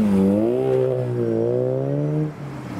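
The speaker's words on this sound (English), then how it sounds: "Is revving behind the" A JDM car engine revs close by as it leaves a night car meet, its pitch climbing and wavering in a smooth sustained whine before dropping off abruptly near the end.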